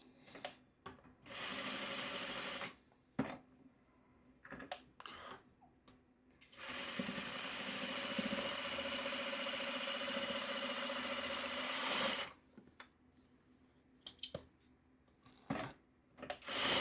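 A sewing machine chain-stitches quilt blocks in bursts, with a short run early and a long steady whir in the middle, separated by clicks, handling noises and quiet pauses.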